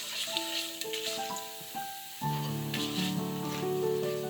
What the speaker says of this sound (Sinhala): තෙල් ටික රත් වෙගෙන එනකොට ඒකට උන් දාගන්නවා එනසා සහ කුරුදුපොතු කෑල්ල.